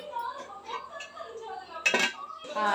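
A person talks, then a sharp metallic clink of a lid set onto a pot of cooking chicken masala gravy rings out, followed by another light clatter.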